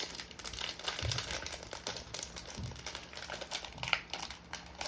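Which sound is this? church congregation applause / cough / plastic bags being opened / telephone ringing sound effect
plastic bags being opened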